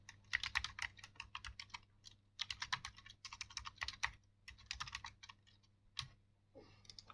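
Computer keyboard typing in rapid bursts of close, crisp key clicks with short pauses between phrases, during a lesson transcribing Ottoman Turkish text; no talking.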